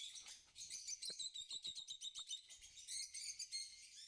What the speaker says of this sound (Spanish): Son opalinos. Pájaros preciosos.